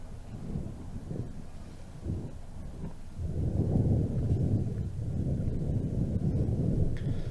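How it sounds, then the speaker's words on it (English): Strong wind gusts buffet the microphone on a golf course, a rough low rumbling roar that builds and stays loud and continuous after a quieter start. "You can hear that wind, right?"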